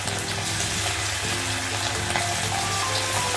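Chicken pieces shallow frying in oil in a kadai, a loud, steady, close-up sizzle with a constant bubbling hiss throughout.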